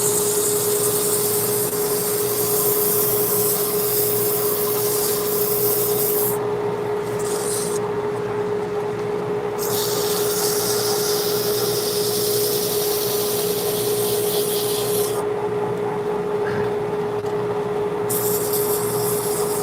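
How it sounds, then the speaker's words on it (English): A wooden hollow form is sanded on a lathe, giving a continuous loud abrasive rasp over a steady motor hum for the whole stretch, briefly dipping twice as the paper lifts, with no talking. "I know sanding's boring,"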